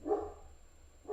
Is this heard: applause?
no